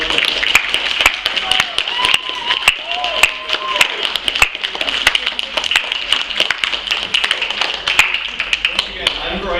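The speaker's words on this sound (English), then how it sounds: "may I get a round of applause for all the wonderful panelists that were on there?" A convention panel audience at Yamacon 2015 applauds the panelists, a dense and continuous clatter of many hands clapping close by, with voices mixed in.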